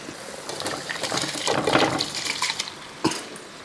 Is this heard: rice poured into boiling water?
yes